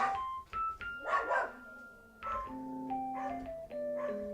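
Dogs let out several barks in an irregular series, moderately close, with a faint tonal hum between them.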